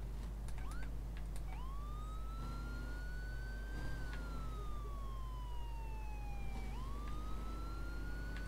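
A police car siren in the racing game The Crew wails in long rising and falling sweeps, loud and unbroken over a low engine drone, during a chase race. Nobody speaks.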